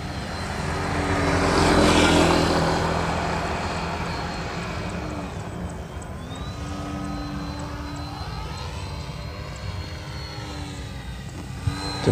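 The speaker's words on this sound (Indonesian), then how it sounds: "Suaranya kayak engine ini kan propellernya agak belen," A small Ugly Stick mini trainer RC airplane with a 90 cm wingspan flies past, its engine and slightly bent propeller producing a steady buzzing drone that swells loudly as it passes near, then continues at a fainter, wavering pitch.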